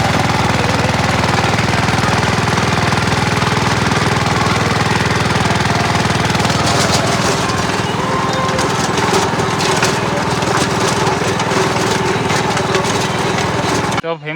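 A tractor with a cutter attachment runs through a standing cotton field, a loud continuous mechanical roar with rapid knocking and rattling throughout, steady and close, briefly cutting off at the end.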